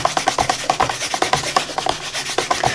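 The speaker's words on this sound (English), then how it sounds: "So now I need to clean that stamp again." Rubber stamp scrubbed back and forth on a Stampin' Scrub cleaning pad, producing close, loud, rapid rhythmic rubbing strokes in a steady repeating pattern with no talking.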